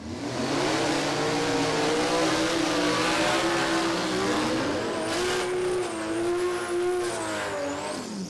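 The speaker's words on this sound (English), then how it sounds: "Here's some more RPM coming up here with Jason Mansueto." Boosted Barra-engined Holden Commodore drag car at Warwick Dragway revving hard, a loud continuous engine roar with rising and falling pitch and a high whine building late, close and dominant throughout.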